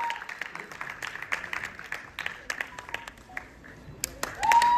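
Audience applause for choreographer Ashutosh Arya at a film foundation awards event, scattered hand claps building over about five seconds, with a brief whistle near the end.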